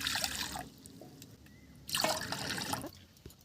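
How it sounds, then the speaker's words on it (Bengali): Water poured into a kadai on the stove, two bursts of splashing, pouring liquid separated by a quieter pause with faint drips, close by. "এবারে আমি দিয়ে দিচ্ছি কড়ার মধ্যে জল।"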